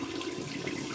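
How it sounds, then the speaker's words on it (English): Water runs from a tap to rinse a shaving razor, a continuous, fairly close splashing rush that lasts under a second with no speech. "I'm gonna rinse my razor out."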